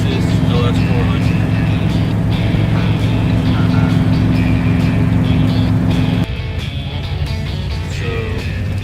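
Steady interior drone of a 1991 Lexus LS400 driving through hills on a dirt road, with engine hum and tire rumble that ease off partway through while people talk over it.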